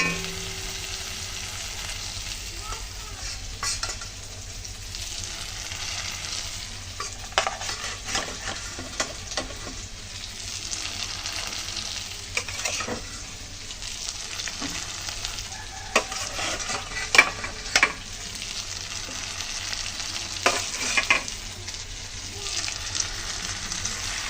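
Tilapia fish going into hot spiced oil in a pan, a steady frying sizzle with repeated stirring scrapes and utensil clinks, close-up and moderately loud, no talk.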